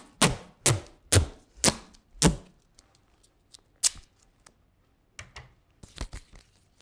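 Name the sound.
duct tape being applied along the edge of felt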